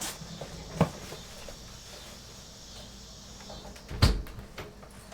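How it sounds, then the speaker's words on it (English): Two sharp knocks of a door being shut, a softer one early and a louder thud later, over a steady hiss of insects in the background. "Let me see if I can close the door here real quick."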